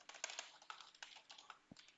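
Code is typed on a computer keyboard in quick, uneven bursts of light clicking keystrokes, faint and close, with no talking.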